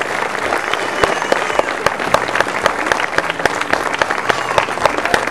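An audience applauds at a theatre award ceremony in San Costantino, with steady, sustained clapping from many hands and a few louder individual claps standing out from the crowd.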